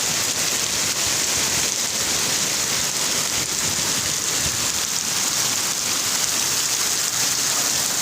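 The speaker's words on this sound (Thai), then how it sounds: "ฝนตก วันนี้ตกหนักเลย" Heavy rain pours steadily, a dense unbroken hiss and patter with no voices.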